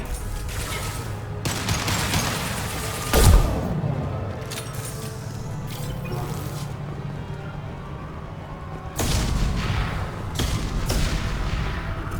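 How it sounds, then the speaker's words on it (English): Explosions and gunfire in the video game Mass Effect 2 Legendary Edition, during Grunt and Zaeed loyalty missions: bursts of crackling shots, one sharp heavy boom, then renewed rattling fire, all at mid distance over a continuous battle din. "Seems like there's way more explosions this time around."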